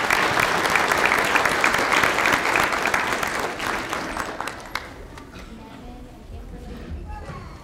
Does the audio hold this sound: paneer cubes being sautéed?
no